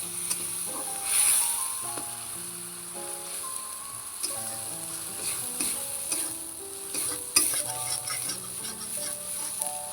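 Spice paste fries in oil in a pan, giving a continuous close sizzle with frequent stirring scrapes and a few sharper clinks, moderately loud and free of speech.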